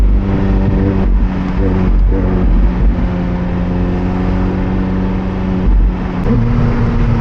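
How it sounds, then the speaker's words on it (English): McLaren 720S Spider with its M840T twin-turbo V8 driving, a loud steady engine drone inside the cabin with a couple of throttle dips and a rising rev near the end, no talk. "I love the note of McLaren engines, the MA40T. I think it sounds great and refined."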